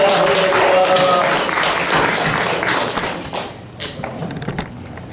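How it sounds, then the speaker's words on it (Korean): Audience applause at a Korean Christian pastors' forum, loud dense clapping that fades after a few seconds into scattered claps and taps, with faint voices underneath. "우리 하나님께 다시 한번 우리 영광의 박수 한번 드려주십시다"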